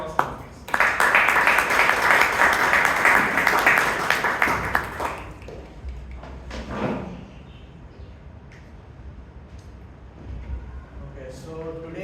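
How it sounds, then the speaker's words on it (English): Applause at a Toastmasters club meeting in Bangalore, a dense burst of clapping from a small room crowd lasting about four seconds before fading, followed by a person starting to speak. "Round of applause, please."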